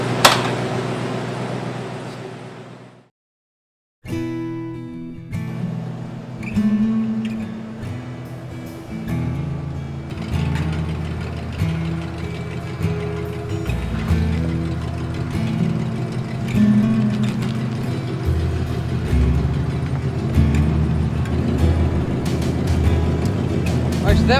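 Rebuilt car engine from a project wagon running steadily and loudly after a sharp start-up, its rough, uneven rumble persisting throughout with rising revs.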